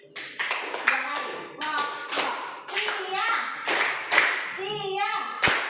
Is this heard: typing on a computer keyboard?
no